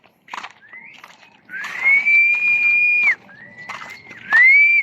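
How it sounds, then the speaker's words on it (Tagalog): A person whistles to call up wind for flying a large guryon kite, with several long sustained notes and short rising slides that are clear and close against quiet outdoor rustling. "Sipol tayo kasi tag-ulan na kasi"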